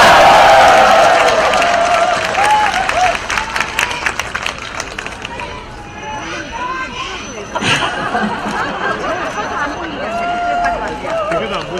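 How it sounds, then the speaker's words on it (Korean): Crowd at an outdoor presidential election rally at Cheonan Station applauding loudly at first, then fading into cheering and chatter with a booming amplified voice speaking over the noise. "이분들께 한번 박수 보내주시겠습니까?"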